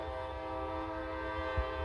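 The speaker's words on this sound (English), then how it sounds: "as a train goes by" A train passes by with a sustained, steady horn blast, layered tones held throughout over low rumbling rail noise, moderately loud and without talk.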